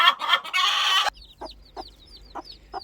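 A loud, dense squawk of fowl opens, then chickens cluck in short, spaced calls against a quiet farmyard background, close by.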